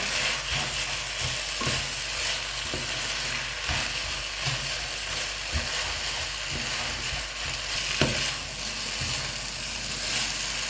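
Korat-style rice noodles with bean sprouts being stir-fried in a pan, a steady sizzle and hiss with repeated scraping stirs of the spatula, close and continuous throughout.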